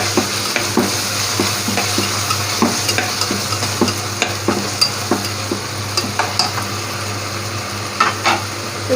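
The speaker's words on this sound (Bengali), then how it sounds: "তো এই মশলাটা একটু হালকা ভেজে নিব" Garlic, onion paste and ginger spices fry in a pan, giving a steady sizzle broken by frequent light scrapes and taps of a spatula stirring, heard up close with no voices.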